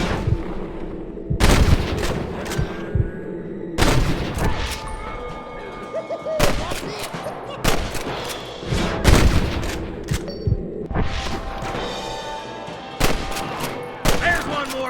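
Gunfight with rustlers in the video game Red Dead Redemption, loud sharp gunshots cracking irregularly in quick bursts, some close and some trailing off, over a background of game ambience.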